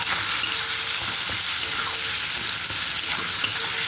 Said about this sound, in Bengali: পটল বাটাটা দিয়ে একটু নেড়ে চেড়ে নেব পেঁয়াজের সঙ্গে যাতে মিশে যায়